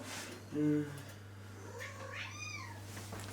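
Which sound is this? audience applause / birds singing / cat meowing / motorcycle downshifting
cat meowing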